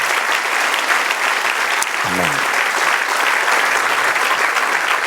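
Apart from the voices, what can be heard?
church congregation applauding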